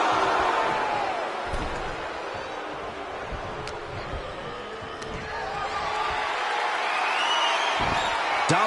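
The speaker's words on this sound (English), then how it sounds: "The sound of this crowd is deafening," An arena crowd roars in a continuous wash of cheering at a wrestling match in the video game WWE 2K24, with scattered thuds and whoops within the noise.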